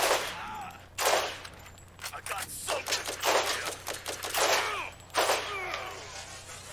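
Gunfire in the Borderlands Game of the Year edition: repeated sharp bursts of shots in short volleys with brief gaps between, fairly close and punchy.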